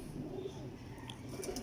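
A male Teddy pigeon coos softly, with a few low, rounded calls repeating over a faint background at a close but quiet level.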